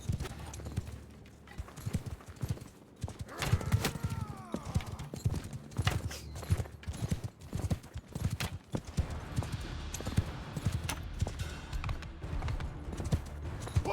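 Horses gallop across a battlefield in Mount and Blade II: Bannerlord, a dense drumming of hooves that comes and goes in loud surges over fourteen seconds, with a neigh or two and occasional voices mixed in.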